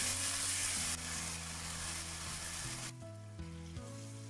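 Tomatoes stir-fried in hot oil with scallion and garlic: a steady, close sizzle with a bright hiss that eases partway through, backed by a low continuous hum and a few soft clinks near the end.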